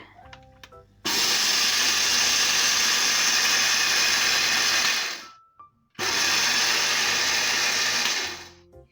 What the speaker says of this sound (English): And now just grind it.